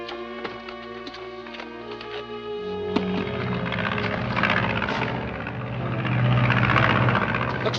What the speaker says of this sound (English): Looks like one of Fowler's planes.